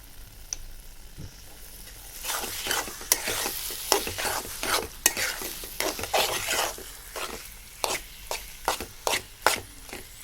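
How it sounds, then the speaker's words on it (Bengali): Taro leaf curry with cumin powder stirred in a hot pan, with a low sizzle under repeated scraping and clattering strokes of a spoon against the metal, close and rhythmic, with no talking. "হালকা একটু জিরের গুঁড়ি দিয়ে নাড়ে চেড়ে নেব। এটা দিয়ে কিছুক্ষণ নাড়বো।"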